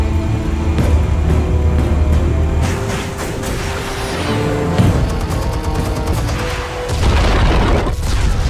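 Explosives detonating in Telltale Batman: a sustained, loud stretch of rumbling booms and crashing debris with layered impacts, swelling again near the end.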